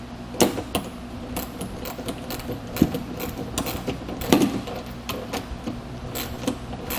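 Nut tightened with a 13mm socket and wrench on a Malone MegaSport saddle-style trailer, giving a run of light metallic clicks and ratcheting ticks at close range, alone with no talking.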